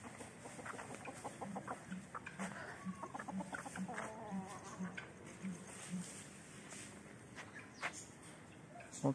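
A chicken clucks in a quick rhythmic series, close by, with other bird calls and faint background voices at an aviary in Cagayan de Oro City, Philippines.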